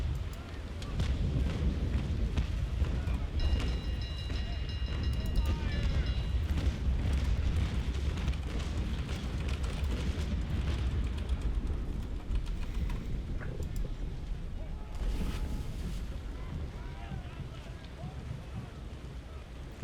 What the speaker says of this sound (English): Let's get one last broadside out.